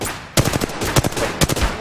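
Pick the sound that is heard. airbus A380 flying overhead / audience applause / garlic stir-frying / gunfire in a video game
gunfire in a video game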